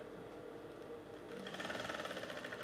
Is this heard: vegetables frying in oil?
no